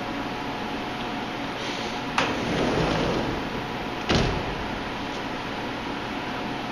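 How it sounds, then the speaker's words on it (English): The door of a CNC machine tool being shut: two sharp sliding thumps a couple of seconds apart over a steady, loud broadband machine hum. "We will shut the door."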